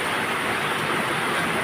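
Steady, dense rain hiss fills the whole stretch, a continuous broadband wash with no pauses and no voices.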